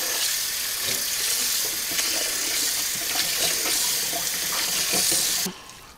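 Food being washed under a running kitchen tap, a loud steady hiss and splash of flowing water for several seconds that cuts off near the end.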